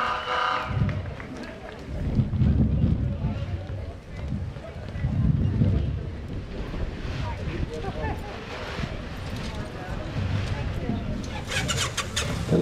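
Motorcycles escorting an American Legion color guard in a street parade, engines rumbling and swelling in passing waves under a loud announcer.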